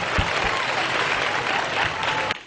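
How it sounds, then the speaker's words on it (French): Schoolchildren at a Cameroonian primary-school contest applaud themselves loudly in a continuous burst of clapping, with a few thumps and a brief voice breaking in before it cuts off. "Les enfants, applaudissez très fort pour vous-même"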